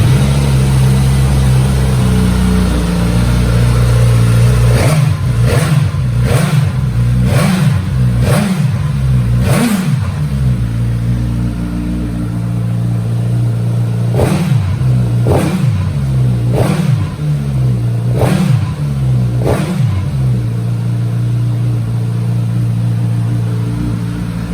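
Suzuki GSX-S 1000 motorcycle engine idling loudly up close, with a series of sharp throttle blips, about six quick revs, a pause, then another cluster of revs over the steady idle.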